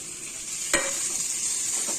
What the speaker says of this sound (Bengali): এখন দিয়ে দিচ্ছি আলু আর পটল ভাজা।